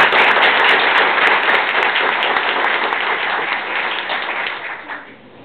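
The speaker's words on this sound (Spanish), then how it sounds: "para quienes pido un aplauso" Loud, dense audience applause for competition finalists at an awards ceremony, a continuous crackling roar that holds steady for several seconds then tapers off toward the end.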